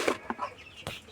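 Chickens on a poultry farm give a few short, faint clucks, quiet and close, with no talk.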